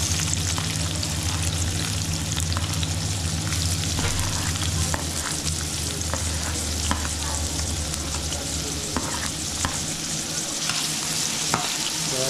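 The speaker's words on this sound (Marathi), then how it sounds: "तर कांदा तडकायला सुरुवात झाली आहे, तर आपण कांदा पुन्हा आपण टाकूया।" Onions for egg bhurji frying in a hot pan, giving a loud, dense, continuous sizzle and crackle with occasional stirring clicks, close up, with no voices.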